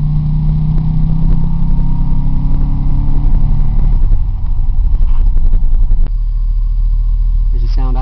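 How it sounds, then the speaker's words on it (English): A 2003 Chevrolet Tahoe idles on its stock exhaust, a steady low engine rumble that stays loud and even throughout, with a quiet voice briefly under it. "There's the sound idling, very quiet."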